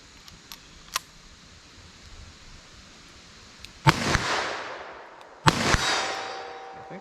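Handgun rounds of Hornady Critical Duty ammunition fire into a ballistic test target with a metal barrier: two loud, sharp shots with ringing, reverberant tails, preceded by a few faint clicks.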